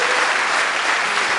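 A church congregation applauds together, a dense, steady wash of clapping that holds at even loudness throughout without any voice rising above it.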